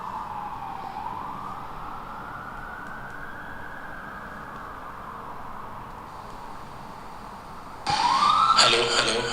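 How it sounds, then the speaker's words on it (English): Police car siren passing outside during a live broadcast, a loud rising and falling wail sweeping across the whole stretch before a sharper burst of noise near the end. "Wow, a police car was loud."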